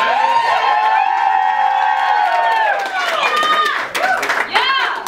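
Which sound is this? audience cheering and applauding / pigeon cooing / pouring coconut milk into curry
audience cheering and applauding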